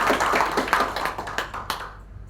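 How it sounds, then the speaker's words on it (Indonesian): An audience applauding at an evening network-marketing gathering, a short burst of brisk clapping that fades out over about two seconds, close and with no talk. "Tepuk tangan yuk"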